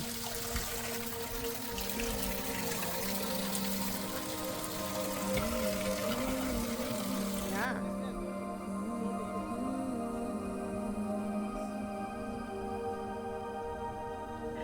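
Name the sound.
water running through Inca ritual fountains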